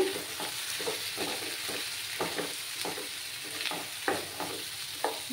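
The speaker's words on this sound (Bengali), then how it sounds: "দিয়ে ভালো করে মশলাটাকে কষিয়ে নিতে হবে" A spice paste with Kashmiri chili powder being sautéed in a pan on low heat, a steady close sizzle broken by repeated scraping strokes of a spoon at an uneven rhythm, with no talking.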